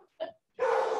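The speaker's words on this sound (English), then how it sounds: "I got a little dog barking in the background." A small dog gives a couple of short, sharp yips followed by a longer bark, faint and off-mic in a home.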